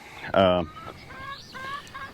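A single loud cluck from a chicken, followed by softer clucks and chatter from fowl nearby, outdoors on a homestead as they scratch for a treat.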